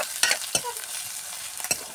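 Garam masala and meat masala frying in a pan for a taro and meat curry, a continuous sizzle punctuated by several sharp spatula scrapes and stirring clatters.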